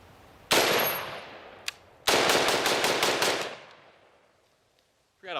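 Two close, loud bursts of rapid gunfire from a small AK pistol shooting 7.62x39 full metal jacket rounds outdoors, each volley ringing out sharply and then fading, with a lone shot in between and no talking.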